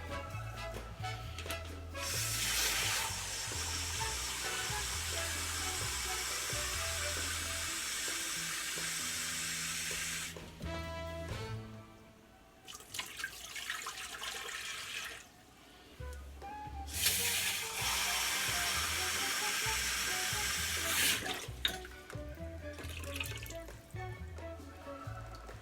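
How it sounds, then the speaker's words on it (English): Water pouring into an Instant Pot holding baby back ribs, a steady splashing hiss that runs in long stretches with short pauses, sitting close and fairly loud. "We're gonna add 3 cups of water"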